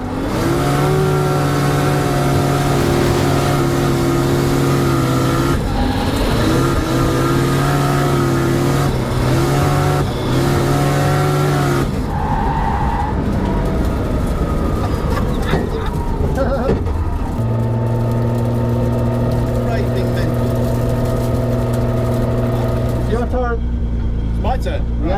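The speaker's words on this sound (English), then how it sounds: "6th gear at about 140 miles an hour, completely sideways." A 1,390bhp Nissan GT-R drift car in 6th gear at about 140 mph, fully sideways: a loud, sustained engine drone with shifting pitch filling the whole stretch, briefly dipping and returning, with a voice talking over it.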